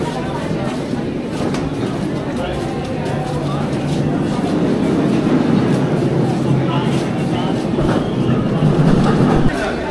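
A Delhi metro train rumbles steadily along the track, a loud continuous roar with rattling and clatter throughout.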